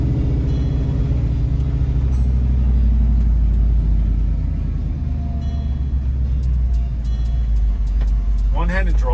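Engine drone and road rumble of a 1974 Ford F250 Highboy pickup driving, steady and close throughout, with a voice speaking briefly near the end.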